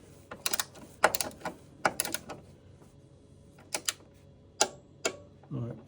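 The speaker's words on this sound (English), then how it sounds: "I've got my torque wrench out." A torque wrench tightening top mount bolts on a 2011 Seat Leon 1.2 TSI during a front shock replacement gives quick bursts of ratcheting clicks in short groups, close and fairly loud, separated by quiet pauses.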